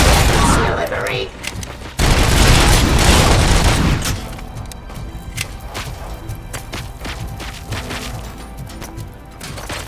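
Enemy gunfire in a Robocop video game: loud bursts of shooting and booming impacts that dominate the first few seconds, then continue as scattered, quieter shots and cracks.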